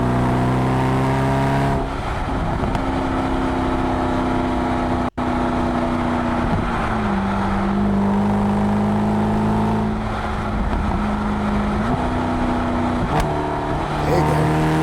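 A Mercedes SLS AMG V8 engine pulling hard on a highway, loud and close, its note rising through the gears with brief dips at downshifts and climbing again steadily, no talking over it.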